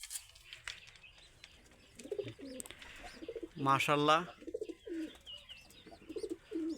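Farm pigeons, with a pair sitting on eggs nearby, give a loud throaty coo at close range, and softer cooing comes before and after it. Someone speaks briefly over the birds.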